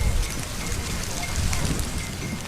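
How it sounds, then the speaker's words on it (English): Steady rain pours down over an outdoor parade ground at a garrison in Barbados during an Independence Day parade, a continuous dense hiss with faint low rumble and no voices. "it's a rainy day here at the garrison in Barbados, and the turf is rather soft"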